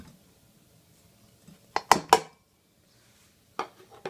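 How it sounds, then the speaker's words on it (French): Butter being mixed in a bowl for cookie dough, a few close utensil knocks and scrapes against the bowl in two short clusters, with quiet gaps between. "dans un bol, vous mélangez le beurre, les 170 g de beurre"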